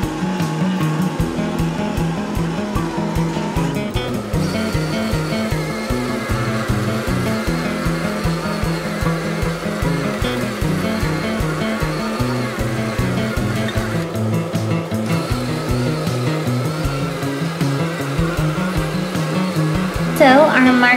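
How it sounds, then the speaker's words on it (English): Electric motor of a Cra-Z-Art Cra-Z-Spiro spinner toy turning its markers, a continuous whirring hum with a rhythmic wobble that runs for the whole stretch, close and steady, no talking. "I'm gonna hit this yellow button on the side and let's see what it does. Ooh, it is spinning"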